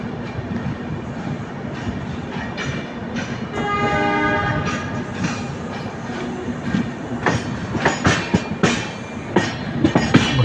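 Vidarbha Express train from Gondia to Mumbai approaching Bhusawal junction, with steady wheel rumble and clatter, a sustained horn blast near the middle, and rhythmic clickety-clack growing louder toward the end.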